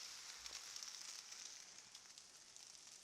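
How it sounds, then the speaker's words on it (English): French toast, bread dipped in batter, sizzles in a buttered hot pan, a faint steady hissing crackle with tiny pops, continuous and close, with no talking. "You want to hear that nice sizzle."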